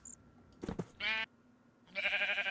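Sheep bleating in the blocky survival game TerraFirmaCraft: two nasal bleats with a brief rustle before them, over quiet game ambience and no talk.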